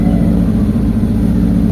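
Mitsubishi Lancer GLXi engine revving after its distributor was adjusted, a loud steady close-up rumble sustained throughout.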